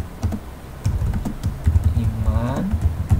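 Subtitle text being typed on a computer keyboard: a run of quick, uneven key clicks, close and moderately loud, under someone speaking.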